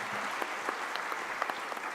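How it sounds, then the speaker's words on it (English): Applause from a conference audience for the co-hosts of a national chartered accountants' gathering, a fairly quiet, steady patter of clapping heard from a distance in a large hall. "please give them a big round of applause"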